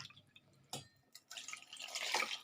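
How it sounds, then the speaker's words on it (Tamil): Water is poured onto ground peanut paste for peanut juice: a few scattered drips and splashes, then a growing, continuous splashing pour that swells louder toward the end, with no talking. "அதுக்கப்புறம் இப்போது தண்ணி ஊற்றலாம்."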